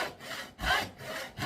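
A hand saw cuts through wood in gentle, unhurried strokes, each pull giving a soft rasping swell with brief pauses between, close and fairly quiet with no talk.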